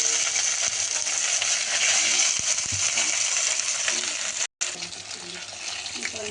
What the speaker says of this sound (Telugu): చూడండి ఎంత బాగా ఫ్రై అవుతున్నాయో